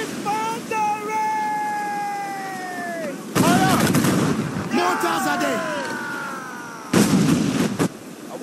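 Gunfire in the Assassin's Creed Freedom Cry video game: two loud broadband bursts of shots break in, one near the middle and a shorter one later, amid shouting and overlapping voices calling out.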